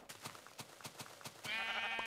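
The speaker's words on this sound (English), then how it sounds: "It's a sheep." A sheep bleats once in Minecraft Pocket Edition 0.11.0, a short nasal in-game cry near the end. Before it comes a row of soft, evenly spaced taps, and no voice is heard.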